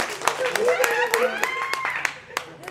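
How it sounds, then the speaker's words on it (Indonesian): A small studio audience claps for an introduced guest, several sharp separate hand claps scattered across the moment while people keep talking over them. "Kasih tepuk tangan dulu dong."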